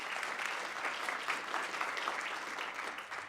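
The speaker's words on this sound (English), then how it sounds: "So a big round of applause for the League of Women Voters and Common Cause." Fairly soft, steady clapping from an audience at a public election-maps program, sustained throughout with no talk over it.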